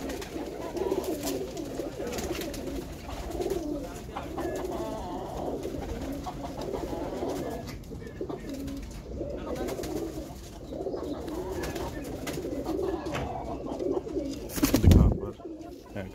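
Pigeons of an old kept breed coo in repeated low, rolling phrases, close and steady throughout, with a brief bump of handling noise near the end.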